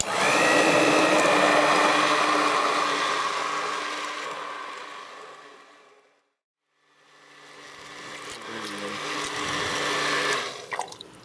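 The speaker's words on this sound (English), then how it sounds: "let's go in with the immersion blender and blend" An immersion blender blending chipotles in adobo whirs loudly, fades to a pause, then starts up again and builds back to a full whine.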